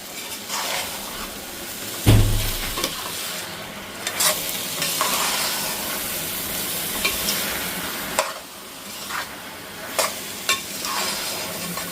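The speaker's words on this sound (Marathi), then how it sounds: "आता हे हिरवं वाटण घालून घेतलंय, चांगलं तांदळासकट खमंग भाजून घेऊया" Rice tossed with green masala paste in a pan over raised heat, a steady sizzle with scraping stir strokes and a sharp clatter near the start, continuing without talk.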